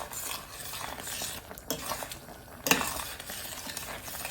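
Leftover ham sauce bubbles and sizzles in a pan as it is stirred, with scraping utensil strokes and a sharp clink of metal against the pan, close and fairly quiet.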